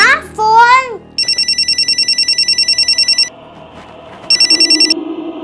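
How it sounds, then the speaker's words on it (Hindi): A telephone rings at home in two bursts of rapid electronic trilling, loud and close, after a voice calls out briefly. "माँ, फोन।"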